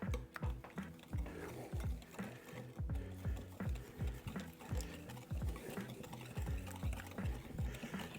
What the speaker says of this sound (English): you're supposed to cream this to get the granulated sugar mixed in real well with the butter and the honey